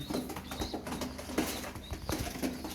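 Pigeons coo softly at close range, mixed with brief flutters of flapping wings.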